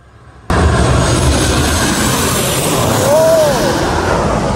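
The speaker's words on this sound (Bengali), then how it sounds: "এটা হচ্ছে জেনজিন থেকে আসা একটি প্লেন" A large passenger airplane from Shenzhen roars loud and close, landing in the rain, its engine noise rising abruptly and holding steady with a faint whining tone sweeping through.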